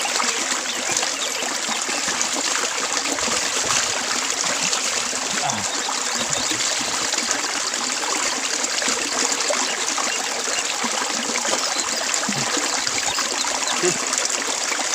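A small waterfall stream in a Borneo forest pours and trickles in a continuous, close, full rush of water that holds steady throughout.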